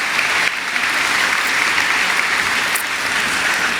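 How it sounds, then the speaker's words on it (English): Sustained, dense applause from a large audience at the Harris-Stowe State University commencement convocation, steady and loud throughout with no voices over it. "can I get a round of applause for Dr. Zachary?"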